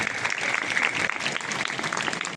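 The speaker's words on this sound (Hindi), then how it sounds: "सभी जोरदार तालियों से इनका स्वागत करेंगे" Applause from an audience welcoming the chief guest, Dr. Pramod Gupta, at a Teachers' Day function in a school, steady dense clapping filling the room without a break until it cuts off.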